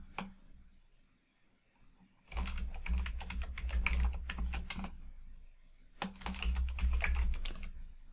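Rapid bursts of typing on a computer keyboard come in two dense runs of close, clicky keystrokes with a short pause between them and no speech.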